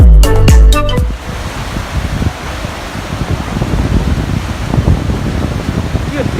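Rushing water from an Icelandic waterfall at Hraunfossar or Barnafoss, a steady broadband roar after a brief loud low thump at the start, continuous and fairly close throughout.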